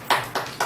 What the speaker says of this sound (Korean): 박수를 좀.